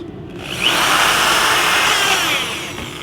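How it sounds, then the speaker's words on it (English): A power drill spins up and whines steadily as it bores into a Camso Cobra 1.35 snowmobile track for about two seconds, then winds down; loud and close. "It doesn't matter which double you drill out."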